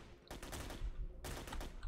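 Sustained machine-gun fire in a video game convoy ambush, with two long rapid bursts of shots hitting the player separated by a brief lull, heard at moderate distance.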